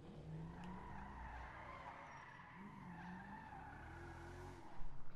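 Car in the video game GTA 5 skidding and squealing its tires as it takes off, a sustained screech with rising and falling pitch over engine drone, fairly loud and continuous, with a thump at the end.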